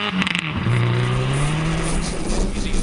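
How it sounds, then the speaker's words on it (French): A rally car on a snowy special stage of a Canadian Rally Championship event drives past close by with a loud engine note. The revs rise and then hold as it goes by. "Patrick Richard passe sur le banc de neige"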